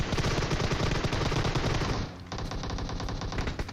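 Rapid automatic gunfire from a PUBG Mobile match, loud and sustained bursts overlapping into a dense volley, with a brief dip before more shots continue without pause.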